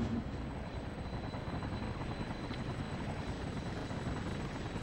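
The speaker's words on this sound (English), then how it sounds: "Ooh, chopper." A helicopter in the video game inFamous flies with a steady, continuous rotor thrum, fairly loud and unbroken throughout, with no voices over it.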